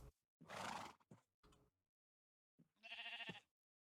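Sheep in the video game Minecraft bleat in a few short bursts, the cries separated by brief silences, with a louder, more nasal bleat near the end; the sound is quiet and close, with no talking.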